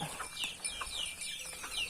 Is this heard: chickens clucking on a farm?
yes